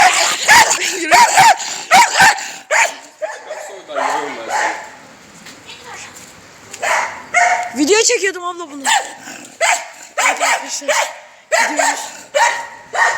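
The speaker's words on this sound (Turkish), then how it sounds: "şu an köpek bayağı bir sinirlendi" An angry dog barks and growls in repeated bursts, with yips and whimpering mixed in, close and loud, while people talk over it throughout.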